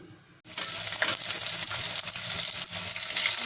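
Chopped onions hit half a cup of warm oil and sizzle loudly, a sudden burst of frying that settles into a steady, close crackle with no talking.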